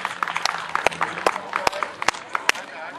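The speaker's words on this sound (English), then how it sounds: "give him a big round of applause" Applause from a small audience at a strongman show, with scattered sharp claps over a busy crowd background and some talking mixed in.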